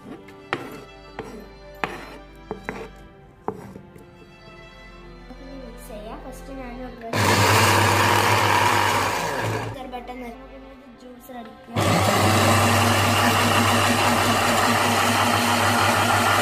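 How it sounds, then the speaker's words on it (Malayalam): A kitchen mixer grinder blending cut melon cucumber for juice: knife chopping first, then two loud bursts of steady motor whir, each lasting several seconds. "നമുക്ക് ഇനി മിക്സിയിലേക്ക് ഇടാം."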